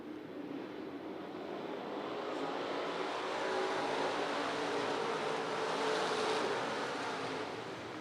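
USRA stock cars roaring around an oval track during a feature race, a steady broad engine drone swelling and fading as the pack passes at middle distance, with no voices.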